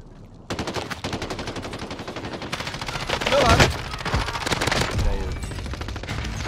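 Rapid bursts of automatic gunfire from a RAM-7 rifle in Call of Duty rattle continuously, loud and close, with a heavier volley partway through.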